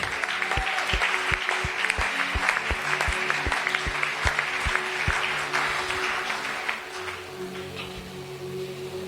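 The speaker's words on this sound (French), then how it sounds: "On acclame Jésus" A church congregation claps and cheers, sharp rhythmic handclaps at first, then a denser, softer wash of applause and voices fading slightly toward the end.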